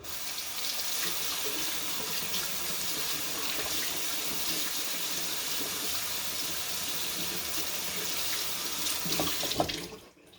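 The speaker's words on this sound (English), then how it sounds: "let me wash my hands real quick" Tap water runs steadily into a sink while hands are washed, a constant close hiss with faint splashes that continues for about ten seconds before cutting off at the end.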